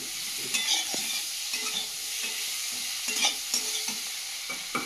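Vegetables sautéing with spices in a pan, with fried cauliflower added, give a loud continuous sizzle broken by repeated scraping stirs of a spoon against the pan.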